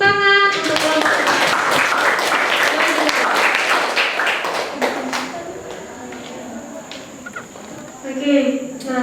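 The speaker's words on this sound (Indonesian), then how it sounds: "Sekali lagi tepuk tangan untuk kelompok 6." Classroom applause for student group six after their presentation on the role of viruses, a dense burst of clapping from many hands that thins out and fades, with a teacher's voice speaking over the end.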